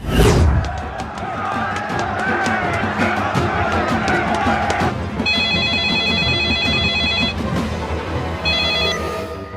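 A telephone rings loudly in repeated electronic trills, with a busy, noisy background and some voices under it.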